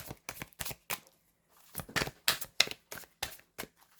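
Tarot cards being shuffled by hand, a run of close, crisp riffling bursts with short pauses between them, some uneven, as if the deck is hard to mix.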